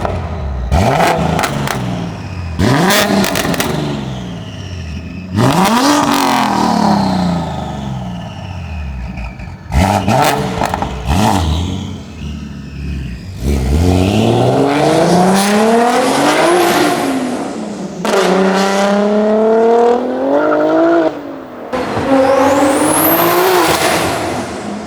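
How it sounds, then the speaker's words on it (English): A loud turbocharged BMW M3 engine revs hard in repeated bursts, each rising in pitch with a whistling turbo whine and some tire squeal, close by. "Can you hear the turbo from the outside?"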